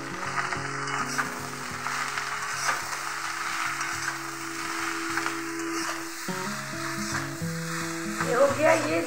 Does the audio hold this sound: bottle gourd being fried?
yes